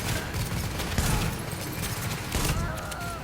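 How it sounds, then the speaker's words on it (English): Shotgun blasts in Tom Clancy's The Division, a few heavy close-range shots ringing out loud amid busy game action and background noise. "As you can see, shotgun can be pretty fucking devastating at close range."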